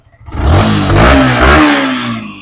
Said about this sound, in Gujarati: સુપર એન્જિન છે મિત્રો કંઈ ઘટી નહીં એન્જિનમાં